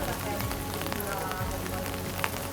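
Steady rain falling in Florence, Tuscany, on an October day, forming a dense, even hiss of drops pattering on surfaces that continues without a break.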